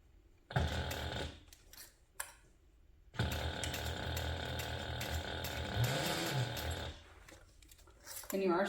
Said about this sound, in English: I'm going to sew that together using a 3/8 inch seam allowance.